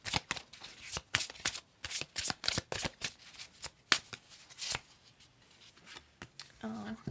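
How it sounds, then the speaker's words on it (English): Oracle cards are shuffled close up in quick bursts of crisp riffling and slapping, and a voice speaks over them now and then. "Let's pull one final card from Manifest Your Soulmate Oracle cards."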